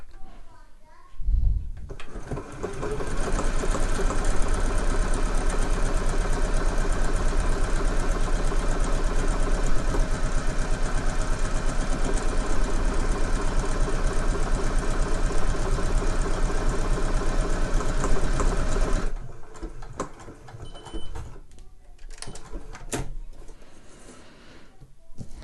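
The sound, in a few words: sewing machine stitching buttonholes on Montauk trousers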